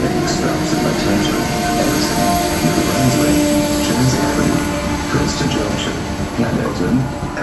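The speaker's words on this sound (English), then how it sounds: "Now arriving on track 4 is the New Jersey Transit 1052 outbound train to Germany, making stops at Metropark." A New Jersey Transit train pulls into Metropark station on track 4, a steady loud rumble and rail roar filling the platform throughout, with station sounds mixed in.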